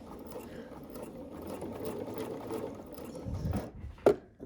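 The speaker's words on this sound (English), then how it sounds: "put my presser foot back down and continue to stitch" A sewing machine stitches knit fabric with a soft, even mechanical whir that runs throughout at close range, then pauses near the end with a sharp click.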